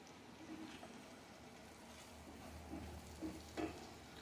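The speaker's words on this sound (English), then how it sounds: "Just got these cooking real slow, just yams and butter" Yams cooking slowly in butter for Jamaican-style oxtails give off a soft, steady sizzle, faint and continuous, with a few brief louder pops near the end.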